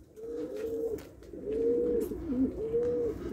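Close, soft coos from Opal and Tiger pigeons repeat in a slow rhythm, three drawn-out calls with a low murmur between them.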